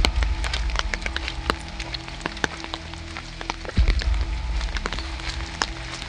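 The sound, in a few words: rain falling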